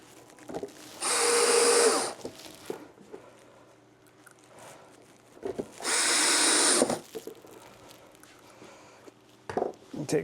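A power drill drives screws into a 3D-printed hobby paint booth in two loud, close bursts of about a second each, with quieter handling knocks and clatter between them.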